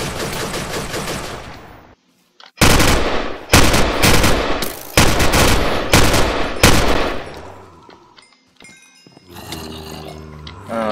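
Gunfire from guns in the Crafting Dead Minecraft zombie mod: loud, close bursts of rapid automatic shots in several separated volleys with short gaps, ending in a few scattered clicks and a louder burst.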